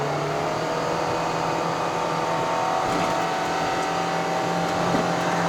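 A 2022 Perodua Myvi 1.5 AV accelerates hard uphill on the Genting road, its engine droning loud and steady inside the cabin with a constant tonal whine and road roar.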